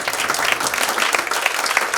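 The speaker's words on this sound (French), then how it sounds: "Ça mérite une acclamation et des applaudissements," Church congregation applauding and cheering at a worship gathering, a dense, steady wash of many hands clapping with a few brighter peaks, close and loud, with no speech.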